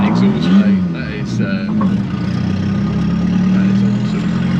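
A deep, throaty engine from a turbocharged 1.8 20V Mk1 VW Caddy van with a bed-mounted exhaust drones steadily close by, swelling slightly as it pulls, with a voice briefly heard at the start.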